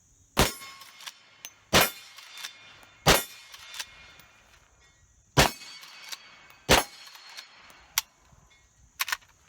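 Henry Big Boy .357 Magnum lever-action rifle firing hollow points: six sharp, loud shots spaced roughly a second or more apart, each followed by a short ringing tail and faint clinks of the lever action between them.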